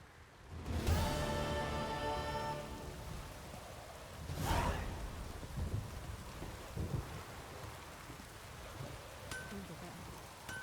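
Steady rain hisses throughout, broken by a loud rumble of thunder near the start and another swell a few seconds later. Rain in the video game The Witcher 3.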